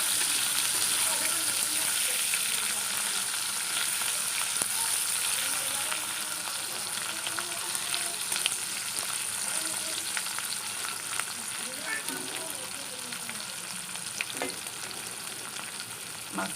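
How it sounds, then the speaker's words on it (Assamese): Washed dry fish fry in hot oil in a wok with a steady, bright sizzle and crackle that spits now and then and lasts throughout. "অকণমান সময় ভাজি ল'ম।"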